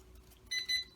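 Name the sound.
LSRC S7S quadcopter calibration beep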